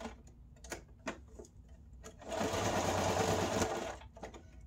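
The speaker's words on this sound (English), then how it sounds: "we're just gonna sew the Velcro because we don't have an opening" A sewing machine stitches Velcro onto a fabric coffee cozy in a quick, steady whir for about a second and a half, after scattered clicks and handling taps nearby.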